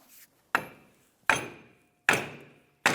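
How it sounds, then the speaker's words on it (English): Four sharp metallic hammer strikes on a Ford 500 control arm bushing, evenly spaced about three-quarters of a second apart, each ringing briefly before fading, close and loud. "Now we try to tap this off with our hammer."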